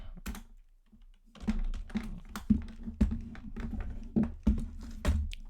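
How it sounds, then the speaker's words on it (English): Typing on a computer keyboard sitting in an awkward spot behind a microphone, with a steady run of close, irregular key clacks and taps after a brief pause, no talking. "My keyboard is in an awkward position because I've got my microphone in front of us."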